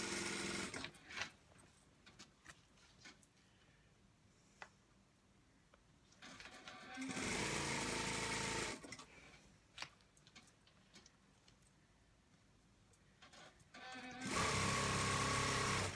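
A sewing machine stitches elastic into boys' shorts in two loud, steady runs of rapid mechanical whirring, separated by quiet stretches of soft handling clicks and fabric rustle.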